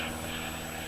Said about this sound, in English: I apologize for the plane flying overhead.